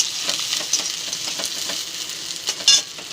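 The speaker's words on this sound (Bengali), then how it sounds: "আর কটা চেরা পাকা কাঁচা পাকা লঙ্কা দিয়ে একটু নেড়ে চেড়ে নেব।" Split ripe and green chillies with garlic sizzle and crackle in hot fish oil in a pan, with soft scraping stirs throughout and a louder sputtering burst near the end.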